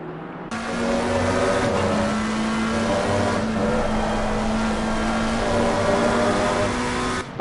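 Race car engines droning steadily at the Kyalami circuit during a Race Club UK Pro-Am race, a loud continuous hum that holds a near-constant pitch throughout with little change.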